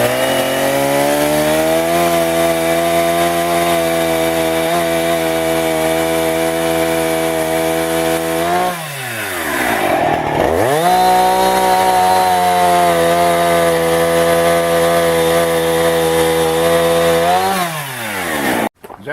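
A chainsaw cutting a wooden bat blank runs at a loud, steady high rev, then briefly drops and revs back up midway before cutting again. No voices.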